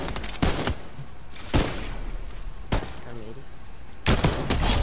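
Gunfire in the video game Fortnite, several loud, sharp shots spaced irregularly over a few seconds with a noisy game background, and voices talking between and under the shots.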